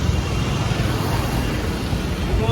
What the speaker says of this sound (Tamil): எவ்வளோ டிராஃபிக் பாருங்கள்